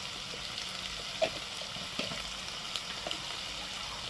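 Masala cooks in oil in a pan, with garam masala added to the mixture, giving a steady soft sizzle with a few brief clicks of spices landing or stirring.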